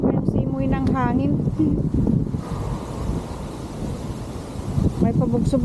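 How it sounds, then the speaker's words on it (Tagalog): Strong gusting wind in the aftermath of Typhoon Ragasa, a broad rushing roar buffeting the microphone outdoors, with a person talking over it at the start and again near the end. "Malakas pa yung simoy ng hangin."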